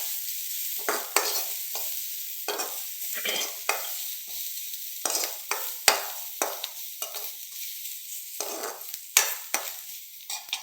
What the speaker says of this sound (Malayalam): അപ്പോൾ തേങ്ങ ഒന്ന് ലേശം വഴറ്റുക.